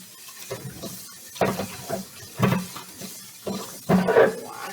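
Tap water running in a sink while sea moss is rinsed and rubbed by hand, irregular splashing surges and sloshing bursts coming every second or so, close and fairly loud.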